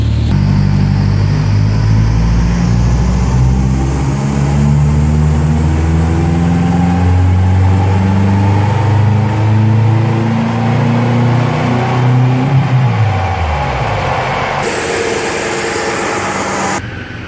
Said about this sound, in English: Now we're going to do our third and final pull, no fan, and we're going to go from 1500 RPM to 3500